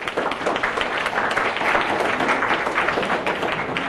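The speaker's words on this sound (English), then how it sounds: "could we just give them a hand of applause" Listeners at a university English presentation contest clap for the presenters who just finished, a full, close, steady roar of many hands that stays even throughout without any voice over it.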